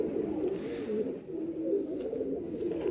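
Pigeons kept for sale coo in soft, repeated low throaty phrases close by, with a few overlapping calls.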